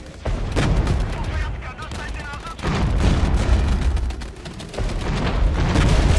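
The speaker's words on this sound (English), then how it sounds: "This artillery is hurting though." Artillery fire in the Regiments war game, heavy booming blasts rolling in continuous dense waves that stay loud throughout, with the rumble briefly dropping off and then surging back, a voice faintly under the barrage.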